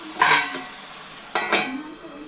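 Bamboo shoot and tinned fish cooking in a pan with a steady low sizzle, broken by two short scraping stirs of a utensil against the pan, close and alone.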